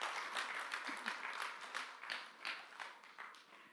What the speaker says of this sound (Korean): 경례 큰 박수 쳐주세요.